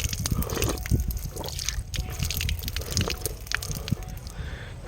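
Clean, cold water runs at a drinking spot along a pilgrimage trail to Baba Balak Nath, giving a close, continuous trickling and splashing with irregular sloshes and drips.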